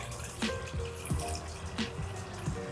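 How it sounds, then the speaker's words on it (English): Water is poured into a pot of braising soy sauce, with sloshing, dripping splashes at irregular intervals over a steady low rumble. "Okay, now you can pour the water in."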